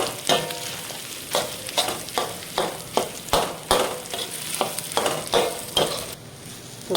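Goat brain (maghaz) frying in oil, rhythmic bursts of sizzling and scraping from repeated stirring about twice a second, close and moderately loud, with no voices.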